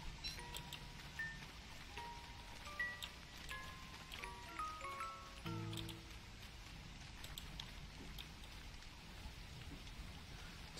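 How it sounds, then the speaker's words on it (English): Rain in the game Don't Starve Together, a soft steady patter at low volume, with scattered game chimes and tones sounding over it. "When is it gonna stop raining? Apparently never."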